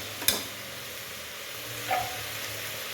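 Fresh green peas tipped into a pav bhaji vegetable mix in a cooker, a soft steady sizzle with a brief thud as they land and a light stir after.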